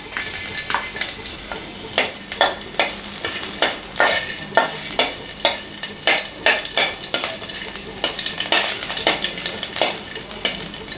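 Tamarind and ginger pieces roasting in a pan for black gram chutney, with steady sizzling and a series of sharp, rhythmic stirring scrapes close by, no talk.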